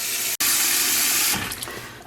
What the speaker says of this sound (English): I'm gonna fill up the basin with water.